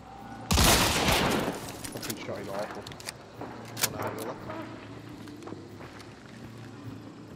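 Gunfire in the video game Hunt: Showdown, a sharp loud burst of shots followed by scattered fainter cracks and footsteps, with voices talking now and then.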